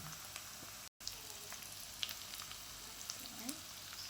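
Garlic and onion sautéing in a pan for chicken adobo, giving a steady quiet sizzle with occasional light crackles and stirring scrapes, heard alone.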